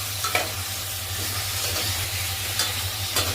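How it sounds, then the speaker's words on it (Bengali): Carrot pieces are gently stirred in a pot for homemade chicken soup, with a soft continuous sizzle and a few light scraping strokes over a low steady hum. "আমি 2-3টে টুকরো গাজর অ্যাড করলাম। এটা হালকা হাতে এবার নাড়বো।"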